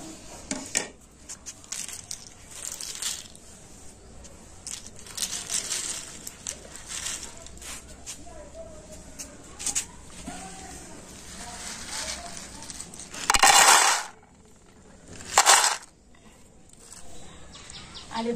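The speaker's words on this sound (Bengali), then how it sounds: "আর এখন আমি এই চিপসগুলো তুলে নেব।" Sun-dried crispy rice flour chips being gathered up by hand outdoors: scattered light rustles and brittle clicks with several louder crackling handfuls, birds chirping faintly in the background.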